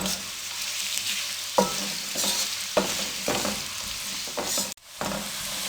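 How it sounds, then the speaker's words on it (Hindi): Finely chopped onions browning in oil over a medium flame sizzle steadily, with irregular scraping and stirring strokes from a utensil breaking through the frying hiss. "अब इसमें हम बारीक कटे हुए प्याज डाल देंगे। बिस्मिल्लाहिर्रहमानिर्रहीम। प्याजों को मीडियम फ्लेम पे हम ब्राउन करेंगे।"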